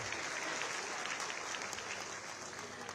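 Loud, steady applause from a large crowd at a public event in Mathura with the Chief Minister, filling the whole stretch with dense clapping.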